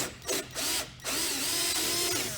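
A drill bores through a fold-down windshield mount on a Polaris RZR UTV, with short whining bursts that stop and start, then one longer sustained run, loud and close.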